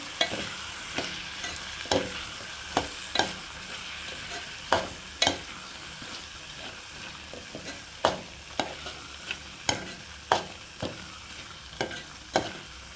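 A spatula stirs a ridge gourd and dry prawn curry in a pan, giving sharp, close scraping clacks at irregular intervals over a steady low sizzle.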